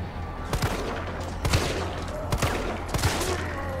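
Gunfire in the Resident Evil 3 Remake video game: four separate bursts of sharp gunshots, each a quick double crack, spaced roughly a second apart over a steady low game ambience, with no talking.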